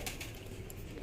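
High-flying breeding pigeons, male and female pairs in a loft, coo faintly and continuously, a soft low murmur with no talking.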